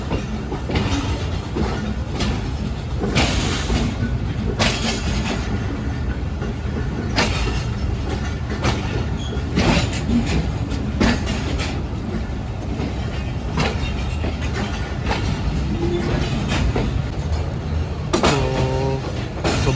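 The 46DN Pakistan Express runs at night between Khanewal Junction and Karachi with a loud, steady roar from inside the train. Rhythmic clickety-clack wheel beats repeat throughout, and a brief squeal comes near the end.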